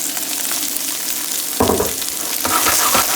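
Ginger, coriander, pepper, onion and chilli fry loudly in hot oil in a pan, a close, steady sizzle that swells in two bursts as the mixture is stirred.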